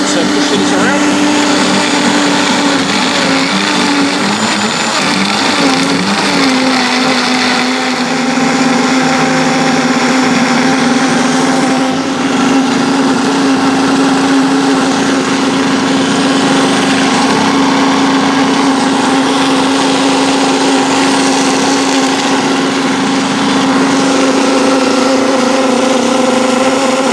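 High-speed blender running on high, whirring steadily while blending green pea soup, a loud continuous motor drone with a shifting churning texture and no pauses.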